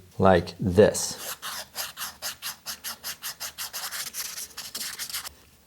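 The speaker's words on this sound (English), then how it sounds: "I'll just sand the edges of the fretboard ever so slightly," Sandpaper rubbed along the edges of a Squier guitar fretboard during a refinish, a close series of about sixteen steady rhythmic strokes following a brief spoken phrase.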